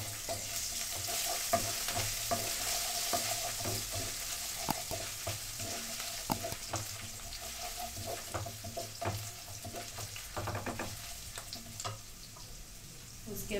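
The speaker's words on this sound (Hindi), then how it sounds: "कढ़ाई पे व्हाइट ऑयल गरम हो गया है तो पहले गार्लिक, जिंजर," Garlic, ginger and chili frying in hot white oil in a kadhai, a steady broadband sizzle with scattered stirring clicks and scrapes running throughout, close and moderately loud, with no talk over it.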